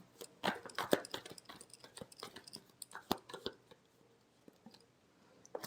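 Tarot cards shuffled by hand during a reading, giving a run of quick close riffling clicks and flutters that thin out to sparse taps before a final louder snap at the end.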